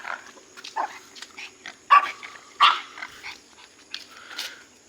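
A dog barks in a series of sharp, separate yelps and woofs heard on a morning bicycle ride, fairly close and loud, with a few louder barks near the middle and a steady faint hum underneath.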